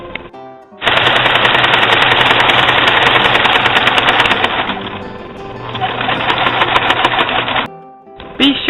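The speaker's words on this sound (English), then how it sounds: "Then I turn and sew down the length" A sewing machine runs a long continuous seam down the length of a stocking. The needle clatters in a fast, even rhythm and slows slightly partway through before stopping. It is loud and close, with no talk.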